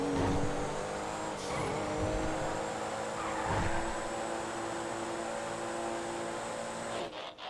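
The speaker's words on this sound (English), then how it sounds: "So we're racing a Comet around where it actually raced during the season." A Comet sports car races around a full track in GTA FiveM, its engine droning loud and steady with shifting revs, a brief tire squeal near the start and a sharp dip at the very end.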